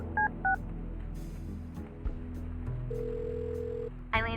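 A phone keypad dials a number in the Kathy Rain 2 adventure game: two DTMF tones, then a steady tone over background game music, ending in a burst of ringing.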